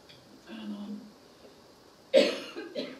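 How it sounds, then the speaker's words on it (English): A single sharp cough from someone speaking at an energy luncheon, with a burst of broadband noise near the end of a short stretch of quiet talk, followed by a smaller second cough. "I'm really sorry about this cough."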